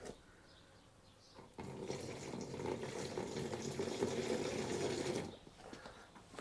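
Water runs steadily from a tap on a cattle farm for about four seconds, a close, continuous rushing that starts and stops abruptly.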